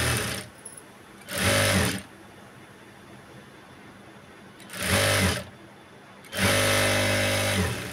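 Sewing machine stitching a Punjabi dress top, three short whirring bursts of rapid stitching separated by pauses, the last one longest, close and clear.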